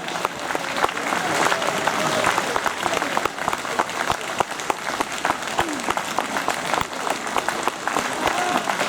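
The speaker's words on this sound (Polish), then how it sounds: "duże brawa" Lively clapping from an outdoor audience for a local parish brass band from Siedliska, with dense, crackling hand claps sustained throughout and murmured voices underneath.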